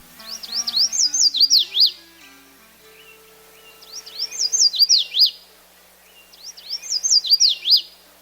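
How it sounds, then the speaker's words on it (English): Red-faced warbler song, three bright rising-and-falling phrases of quick sweet notes repeated every few seconds, clear and close with other faint birds in the background. "The red-faced warbler's song has been compared to the sweet, sweet, sweet tune of the yellow warbler. Here's a sample."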